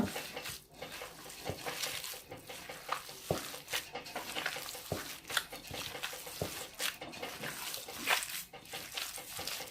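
Meatball mixture being kneaded by hand with olive oil, giving close, wet squelching and soft slapping sounds in an irregular rhythm, fairly faint.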